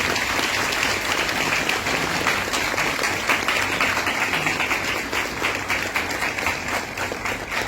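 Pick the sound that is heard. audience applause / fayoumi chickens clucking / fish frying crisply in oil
audience applause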